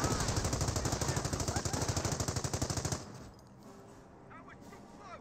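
Machine-gun fire from Company of Heroes 1 rattles in loud, rapid, evenly spaced bursts for about three seconds, then stops, leaving quieter battle ambience.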